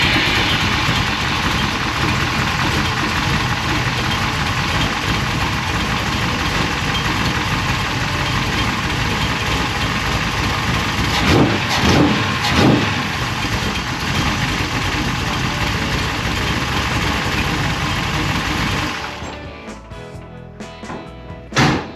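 A big block Chevy 540 V8 fitted with a Holley 4150 carburetor idles steadily and loudly for about nineteen seconds, running slightly rich, then quiets abruptly near the end, leaving a few faint clicks.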